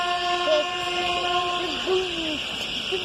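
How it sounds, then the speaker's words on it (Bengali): A train rolls through a railway station in West Bengal with a steady rumble and sustained tonal horn-like notes, loud and close throughout. "আসছে গাড়ছে চলে গেল ট্রেনটা।"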